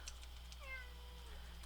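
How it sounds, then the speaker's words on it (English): A house cat meowing to be let outside, one short rising-falling meow heard faintly over a low electrical hum indoors. "that's my cat, wanting to go outside"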